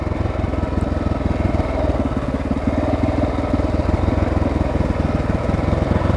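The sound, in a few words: Honda XR600R dirt bike engine running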